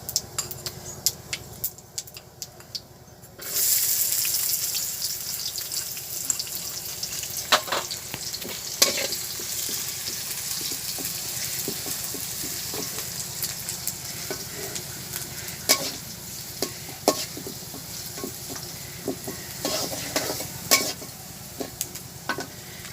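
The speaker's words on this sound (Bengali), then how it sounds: "আমাদের পেঁয়াজগুলো বাদামি করে ভাজা হয়ে গেছে।" Chopped onions sizzle steadily in a pan, the frying swelling louder after a few seconds, with frequent close scraping and clicking strokes of a spatula stirring through them.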